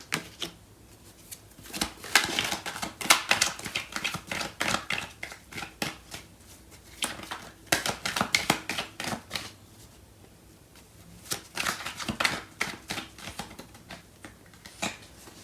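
A tarot deck is shuffled by hand in several bursts of crisp, rapid riffling and snapping card sounds, separated by short quiet pauses, close and fairly soft.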